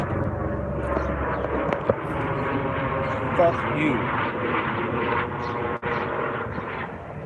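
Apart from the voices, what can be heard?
helicopter flying overhead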